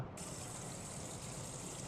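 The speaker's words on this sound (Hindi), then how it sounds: "ओके पानी भर रहा है, पानी भर गया।" Water pours steadily into a pot inside the Homework Mom horror video game, a continuous, even rushing hiss with no pauses and no voices.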